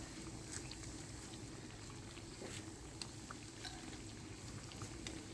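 Sweet tikkis sizzle in a frying pan, a steady soft bubbling crackle with scattered tiny pops, fairly faint and continuous, with no voices over it.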